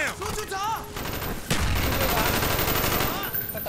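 Rapid automatic gunfire in Call of Duty: Black Ops erupts loudly after a brief warbling, voice-like sound at the start, then continues as a dense, sustained close-range barrage.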